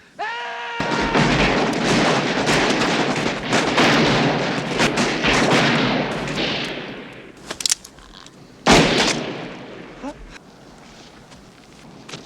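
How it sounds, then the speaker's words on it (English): Gunfire from a Western film set among hydraulic mining country, a burst of loud shots under heavy score and crowd noise, followed by a few sharp isolated reports near the end. "they gun Spider down in front of everyone"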